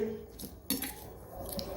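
A plain cooking pot clinks and knocks a couple of times as it is set down for making rice, short metallic clatters close by with no talking.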